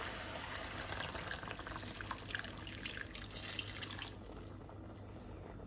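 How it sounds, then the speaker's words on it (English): Water streams into a cooking pot of bay leaves, cardamom, turmeric and black pepper, a faint, steady pour that runs for about four seconds and then stops. "Now she's going to add water."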